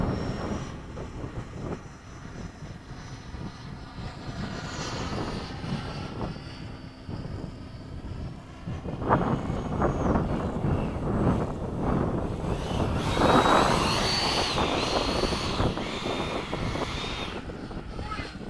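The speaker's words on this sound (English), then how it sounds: "Power is off, I'm just gliding right now." A Freewing 90mm F-22 RC jet gliding in to land with power off at sunset, heard as a steady rushing airflow with wind buffeting on the microphone and a faint whine rising later, continuous and moderately loud.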